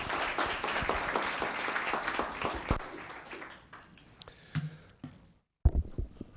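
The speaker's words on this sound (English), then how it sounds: "Let's give him a hand." Audience applause in a town council chamber, steady clapping at first that thins into scattered individual claps and fades, broken by a short gap before a few louder sounds.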